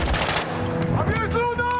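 Gunfire bursts in the battle royale shooter Call of Duty Warzone, loud and dense, with voices calling out over the shooting.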